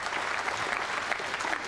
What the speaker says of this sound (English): And Strickland applauding that shot.